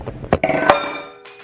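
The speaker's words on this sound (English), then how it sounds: "I just managed to break my egg and a wine glass." Glass and an egg shatter in a kitchen while breakfast of toasted sourdough and avocado is being made, several sharp clinking, breaking impacts in quick succession, close and loud, with a ringing glassy tail fading out.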